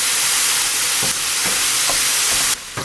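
Lean ground beef browning with onion in a pan gives a steady close sizzle and hiss, with a few soft stirring scrapes and a louder burst of frying near the end; no talking.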